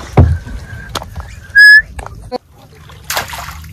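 A crab trap is tossed from a boat and lands in the water with a sharp splash, followed by further sloshing and a brief whistle-like tone, with faint background activity on board.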